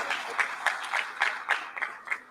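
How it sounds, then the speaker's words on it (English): An audience at a school debate competition claps for the judges, a short burst of rhythmic, moderately loud applause with clustered claps, no talk. "May I request all of you kindly to give them a warm round of applause."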